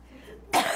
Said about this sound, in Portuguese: a apresentadora está tendo um ataque de tosse